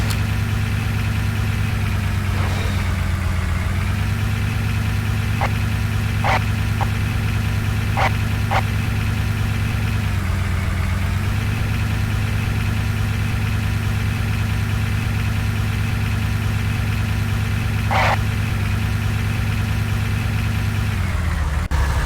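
Humvee engine in Command & Conquer: Renegade, a loud steady mid-pitched drone driving continuously, with slight dips in tone and a few brief sharp clicks layered over it.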